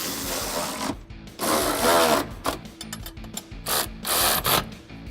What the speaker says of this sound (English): you can start tightening your bolts